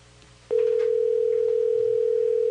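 A steady electronic ringback tone on a phone call lasts about two seconds, loud and continuous with a clean start and stop, over faint background talk.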